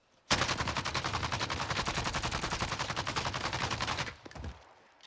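Rapid automatic gunfire from Call of Duty Warzone, a continuous burst of evenly spaced shots lasting about four seconds, loud and close, then cutting off with a few trailing game sounds.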